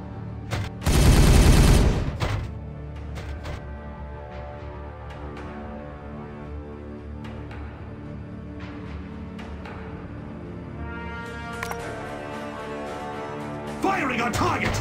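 Gunfire in Warhammer 40K Regicide: a loud, dense burst of rapid shots near the start, then quieter game sounds and music with scattered faint impacts and another swell at the end.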